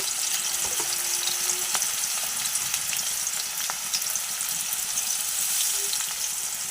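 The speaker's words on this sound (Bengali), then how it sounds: "এঁচোড়ের আলু ভাজা বসিয়ে দিলাম" Jackfruit and potatoes fry in a pan with a steady, close sizzle and occasional faint stirring clicks, no voices.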